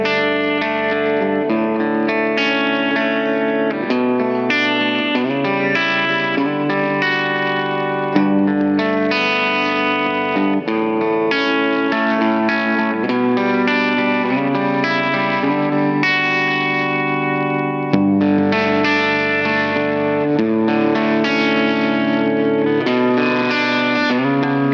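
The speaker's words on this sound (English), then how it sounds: "The saturation control is going to introduce odd order harmonic distortion the harder we push it, and we'll have an added bonus of having a tape wobble modulation effect." Guitar chords and melodic lines run through a Line 6 POD Go set for retro reel tape saturation with a wobbling modulation, sounding warm and lightly distorted, slightly echoing, continuous and loud with brief pauses between phrases and no voice.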